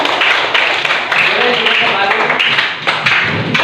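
A classroom of students claps their hands together in a dense, steady burst lasting a few seconds, loud and close, with some voices mixed in.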